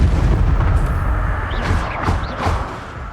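Spell-casting effects in a video game: a dense, rumbling roar with a few whooshing, rising bursts and muffled blasts layered on top, loud and continuous with no talk.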